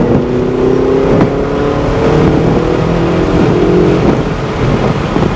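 A Ferrari engine drones loud and close as the car accelerates on a track, its pitch holding steady with slight rises and dips as speed builds.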